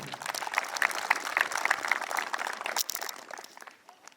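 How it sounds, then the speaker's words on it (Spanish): An audience applauds at the inauguration of a bullring, the Virgen de Chapi festival in Chuñohuacho, with scattered, moderately distant clapping that swells and thins over a few seconds. "Estimulemos con un caluroso voto de aplauso."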